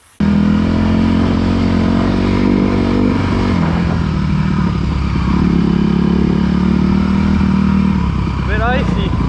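A Kawasaki KX450 dirt bike engine drones loud and close throughout while riding over icy, muddy ground, with a brief throttle rise near the end.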